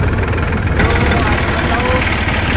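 A tractor engine runs as it sets off from home, a steady, close diesel rumble with a rough low throb that continues without a break for the whole stretch.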